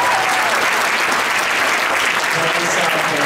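A packed school auditorium erupts in loud, dense applause for a high school choir at a pops and jazz concert, a continuous roar of clapping with no pauses.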